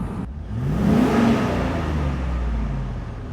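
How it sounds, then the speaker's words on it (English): A car engine in neutral, one that has run a new oil, revs up once and then holds at a smooth, steady roar that slowly settles. It is loud and close, with no talk over it. "Let's give them a little rev in neutral."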